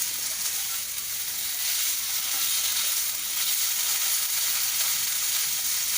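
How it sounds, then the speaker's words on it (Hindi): Baby corn with ginger and garlic frying in a pan, a loud, even sizzle of hot oil. It stays steady and close for six seconds with no break and no voices. "अब ये अच्छा फ्राई हो गया है। जिंजर गार्लिक भी फ्राई हो गई।"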